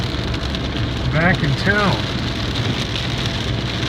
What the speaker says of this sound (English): It's been raining all day, but it's even worse now